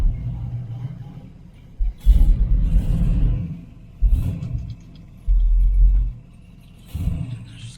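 A 1970 Camaro project car idles with a low rumble, then revs in several loud bursts as it pulls away, with mechanical clunks and gear sounds between the surges.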